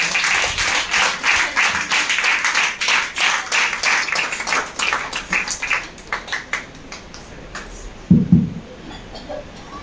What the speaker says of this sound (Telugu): మనమందరం కూడా చప్పట్లు కొడుతూ ప్రేమతో వారిని ఆహ్వానిద్దాం